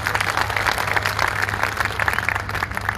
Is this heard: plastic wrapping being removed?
no